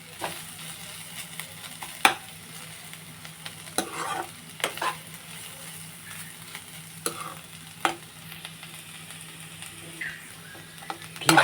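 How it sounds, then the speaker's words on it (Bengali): Carrots fry in ghee for carrot halwa with a low, constant sizzle, broken by repeated scraping strokes of a spoon stirring the pan, with no talking. "গাজর থেকে কাঁচা গন্ধটা চলে না যাওয়া পর্যন্ত আমি ঘিয়ের সঙ্গে গাজর ভালোভাবে ভেজে নেব।"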